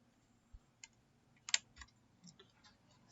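A few sparse, quiet key presses on a computer keyboard while Tally accounting software is being used, isolated clicks with one sharper tap in the middle.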